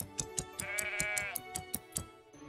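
A sheep bleats while being sheared in the farming video game Everdream Valley: a wavering bleat rises over a run of evenly spaced clicking snips, all close and moderately loud.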